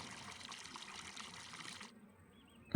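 Water pours in a steady trickling splash into a dough mixer in Farming Simulator 19, faint and close, then stops abruptly partway through, leaving near silence.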